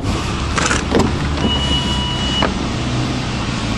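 A power seat motor in a 2008 Ford Explorer XLT hums with a thin, steady whir for about a second, set against constant engine idle and cabin rumble, with a couple of clicks just before it.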